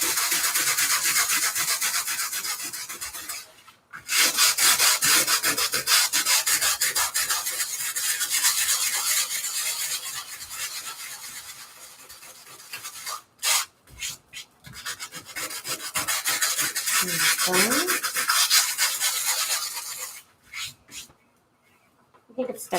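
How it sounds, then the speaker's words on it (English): Sanding a junk journal cover by hand, with long, steady rasping strokes that come in bursts and pauses, close and fairly loud, with a brief low voice breaking through near the end. "But I do need to sand this down here."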